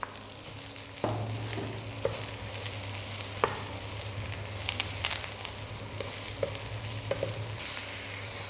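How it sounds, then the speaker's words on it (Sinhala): Chopped green beans frying in oil with chili flakes for a Sri Lankan bonchi mallum, a steady close sizzle broken by occasional spoon taps and stirring scrapes against the pan, with no one talking. "කෑලි මිරිස් එකතු කරගෙන ටික වෙලාවකින් අපි කපාගත්ත බෝංචි ටික එකතු කරගමු."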